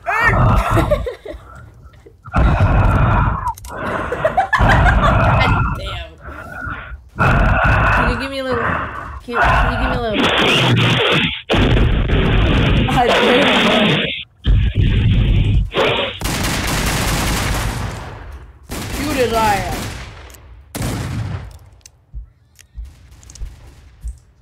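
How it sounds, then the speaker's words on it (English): Bursts of gunfire from a Wild West video game crack out in quick volleys, loud and close, mixed with excited shouting and talking between players. "Shoot! Shoot him!"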